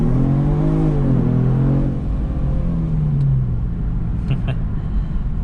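Inside a 2022 Genesis G70 Sport Advanced with a twin-turbo engine as it accelerates hard in sport mode: a loud, rising engine drone climbs in pitch through the gears and settles into a steady cabin rumble, with no talking.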